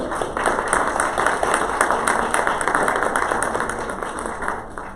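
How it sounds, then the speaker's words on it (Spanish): Applause from an audience at a book presentation in Nuevo León: dense, sustained clapping from a crowd, steady and fairly loud, tapering slightly toward the end. "Un fuerte aplauso para todos ustedes"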